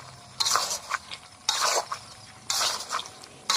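A pot of beef bhuna being stirred while it fries, with a utensil scraping the bottom in short bursts roughly once a second against a low, steady cooking background.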